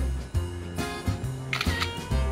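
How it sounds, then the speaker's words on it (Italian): A camera shutter clicks as a photo is taken for a facial recognition system test, with a few sharp mechanical clicks spread across a short stretch, alongside a soft tonal background hum. "Le scatto una foto e poi guardiamo assieme."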